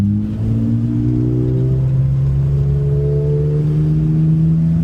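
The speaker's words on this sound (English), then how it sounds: "So this is the second gear I just left in." A turbo V6 Civic engine held in second gear drones steadily and climbs slowly in pitch, a sustained revving hum that stays loud and close throughout.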